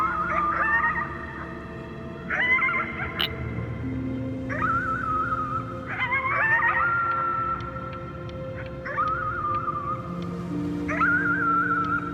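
A character in the video game Before Your Eyes howls at the moon at the top of their lungs: a series of about six rising, wavering tonal cries, each swelling and then fading, heard close and clear over a low steady backdrop.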